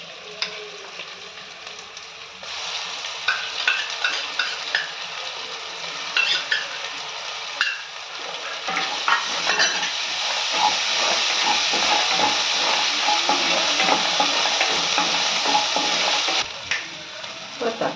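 Onions sauté in a pan for a chicken gravy, giving a strong, steady sizzling hiss with bursts of crackle and steam that swell in the middle, close-up and without talking.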